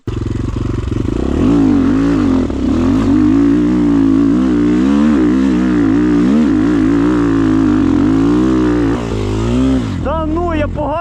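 A Rottor Nemesis 250 motorcycle engine roars close and loud, revving and wavering in pitch for several seconds before the throttle is cut and the revs drop away, with a person's voice over it.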